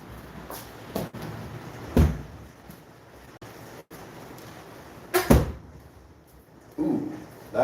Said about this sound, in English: now I'm gonna close those windows